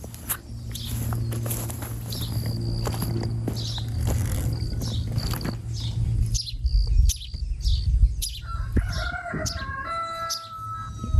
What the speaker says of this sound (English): I think a baby bird fell out of the nest.